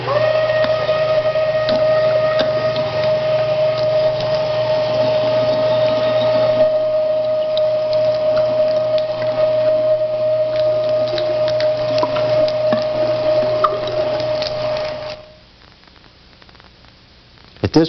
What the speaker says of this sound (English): We're going to run the meat through the grinder for the first grind, mixing the pork fat with the venison as we go.